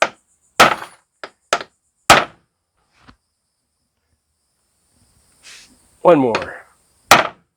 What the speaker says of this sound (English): Give it a couple good whacks here.